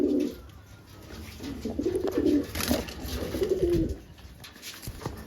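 A Madras breed pigeon coos in low, throaty bursts close by, repeating several times with short pauses, over a faint background hum.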